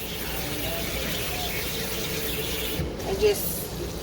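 Cold tap water pours steadily over cooked pasta in a sink, a constant rushing hiss with a brief squeak and a slight splash change near the end.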